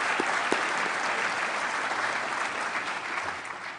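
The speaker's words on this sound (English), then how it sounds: "Let's give them a big round of applause." Audience applause for students rings out in a hall, a thick, continuous wash of clapping at moderate level that stays steady and fades only slightly toward the end.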